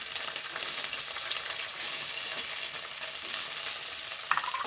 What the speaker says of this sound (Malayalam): ചട്ടി അടുപ്പത്ത് വെച്ച് വെളിച്ചെണ്ണയാണ് ഒഴിച്ചു കൊടുത്തത് ഇനി ഇതിലേക്ക് ആദ്യം ചെറിയ ഉള്ളിയാണ് ഇട്ട് കൊടുക്കുന്നത്